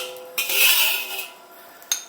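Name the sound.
scraping inside a cast iron wok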